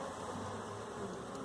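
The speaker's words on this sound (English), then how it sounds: "What I tried to record was these bees." Honeybees swarm around the recorder, a dense, steady buzzing that is faint yet unbroken throughout, with no voices.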